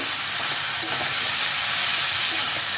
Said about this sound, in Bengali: সব কিছুকে একসাথে ভালো করে মিশিয়ে